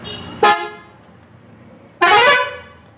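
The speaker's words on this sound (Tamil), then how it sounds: "ஸோ ஹேர் ஆரன் அடிக்கிறேன்." Two loud, bright horn blasts from a tourist coach van, a short toot followed by a longer, slightly falling blast about a second and a half later, close by with no talking.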